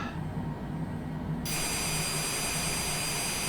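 Aircraft jet engines spin down after landing on the runway, a steady loud broadband roar with a high whine, continuous throughout with no talk.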